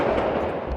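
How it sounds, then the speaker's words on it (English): Gunfire echoes through city streets at night, a dense, loud burst of rapid reports blurring into a rumbling wash of reverberation, under a second long with no talk. "The echoing sound of gunfire pierces the night air."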